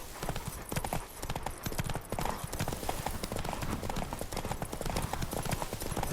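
Horse galloping in a race in The Witcher 3 video game: rapid, steady hoofbeats drum loudly and continuously throughout.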